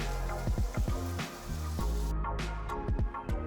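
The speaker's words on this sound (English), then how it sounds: "I'm going to saute this very well until the rawness of the ginger garlic paste is gone" Tomatoes with ginger garlic paste saute in a hot pan for paneer bhurji, giving a steady close sizzle broken by a few soft stirring knocks.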